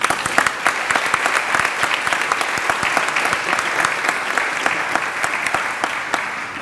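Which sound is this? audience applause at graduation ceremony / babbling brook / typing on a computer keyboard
audience applause at graduation ceremony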